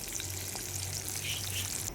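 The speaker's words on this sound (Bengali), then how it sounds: "এইটা হচ্ছে হালকা হালকা ভাজবো এই মাছটা" Hilsa fish fry lightly in hot oil, a close, continuous crackling sizzle with soft spattering and a low steady hum underneath, with no voices.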